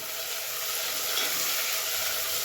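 Finely chopped tomato frying in oil for a quick chicken dum biryani, giving a steady, even sizzle and hiss that continues without a break and with no voices.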